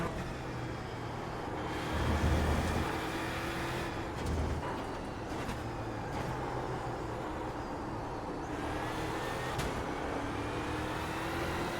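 A NASCAR Euro Series race car in a racing video game laps Brands Hatch Indy, its engine a continuous moderate roar that swells and eases with the throttle through the corners.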